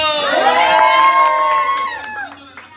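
Audience at an Arfin Rumey live show cheering, with a long, high, sustained whoop and crowd shouting over scattered claps that fades toward the end.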